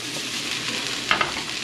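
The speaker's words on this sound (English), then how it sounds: "So you want to fry up all your vegetables real good, give them a toss" Vegetables sizzle and hiss in a hot wok for a Philly cheesesteak, with a continuous close frying crackle, a couple of quick tossing clatters near the end, and no voices.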